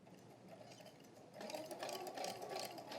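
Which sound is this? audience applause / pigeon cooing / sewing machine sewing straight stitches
sewing machine sewing straight stitches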